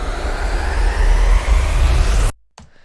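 A pitched sub-riser sound effect swells as a loud, dense noisy roar with a deep low-end rumble, building for about two seconds before cutting off abruptly into near silence and a faint tail.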